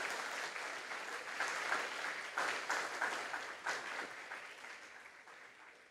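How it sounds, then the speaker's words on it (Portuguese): A church congregation gives a warm, sustained round of applause at a Sunday morning service, with many hands clapping together in a fairly distant, reverberant room. "Pode dar um aplauso ao Senhor?"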